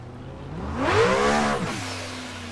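A loud Nissan S15 drift car engine revs up in one rising and falling sweep, heard close in first person during testing, then settles back to a steady idle.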